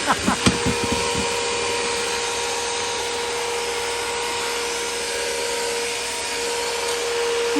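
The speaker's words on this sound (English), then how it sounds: "Okay, it's vacuuming" A vacuum cleaner runs with a steady, moderately loud whine and hum after a few quick knocks at the start.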